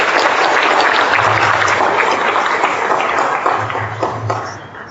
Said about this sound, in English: Please give him a hand of applause.